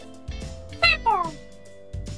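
A cat gives two short, close meows in quick succession, separated from a voice speaking before and after.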